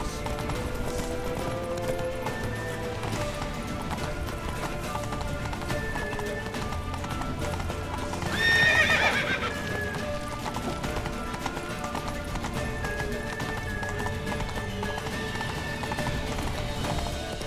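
Horses' hooves clip-clop in a fast, steady galloping rhythm in The Witcher III over a continuous bed of music, swelling briefly louder midway.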